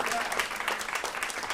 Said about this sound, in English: Please give another round of applause for all of our amazing contributors.